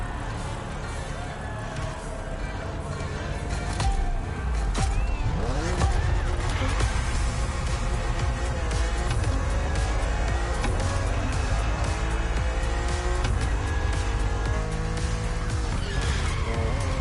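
A BMW driven in the racing game The Crew Motorfest gives a steady engine drone mixed with tire squeal and skidding, loud and continuous throughout, with some game sounds layered over it.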